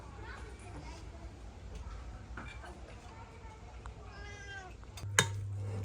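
A pet cat meows several times in a home kitchen while potato pie is being made, thin rising cries mixed with faint voices and household noise, ending in a sharp clatter.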